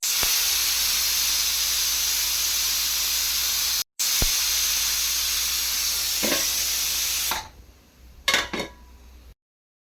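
A pressure cooker holding ridge gourd dal vents its steam in a loud, continuous hiss for about seven seconds, broken once by a brief gap, before it fades and a few light metallic clatters follow.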